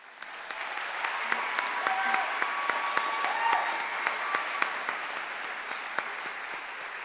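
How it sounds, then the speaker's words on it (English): Audience applause fills a school district recognition night in 2024, a dense, steady round of clapping that holds for about seven seconds with no voices over it. "let's give one more round of applause for all of our students"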